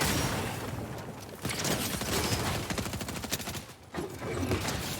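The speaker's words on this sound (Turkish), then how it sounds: "Onun haricinde Snowball Launcher isminde roket atar geldi arkadaşlar. Grenade Launcher daha doğrusu." A Snowball Launcher, a grenade-launcher-style weapon in Fortnite, fires in a dense rapid series of pops and thuds under constant game noise.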